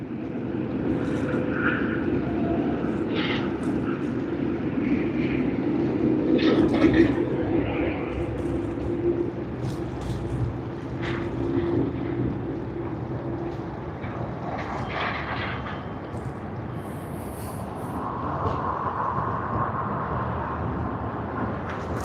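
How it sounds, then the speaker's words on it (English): A United Airlines Boeing 787-9 Dreamliner at Sydney Airport gives off a steady distant jet engine rumble and whine during early-morning operations, holding fairly even throughout with occasional faint talk. "That's the Boeing 787-9 Dreamliner of United Airlines."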